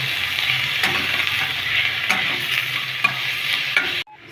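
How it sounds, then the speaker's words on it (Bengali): Chopped capsicum and onion fry with baby corn in a pan for a red chili dish, giving a steady close sizzle broken by a few scraping stirs, then cutting off abruptly near the end. "এবারে ওর উপরে দিয়ে দেবো কেটে রাখা সবজি, ক্যাপসিকাম, পেঁয়াজ, এগুলো দিয়ে 2-3 মিনিট ভেজে নেব।"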